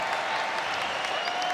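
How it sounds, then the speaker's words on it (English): Basketball crowd at the Zoo, Pitt's home arena, cheering and clapping in a brief, steady roar of applause during a Cal vs. Pitt men's game, with faint voices mixed in. "The crowd loves it here at the Zoo."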